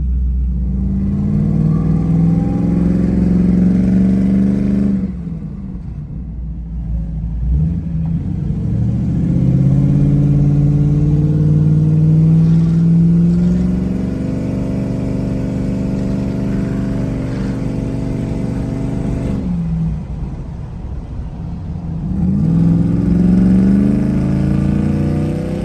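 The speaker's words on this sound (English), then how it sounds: "Got Nick's car fired up for the first time on E85." Twin-turbo Mustang running on E85 for the first time, a loud close engine rising through several revving pulls with lower idle dips between them, droning tonally throughout.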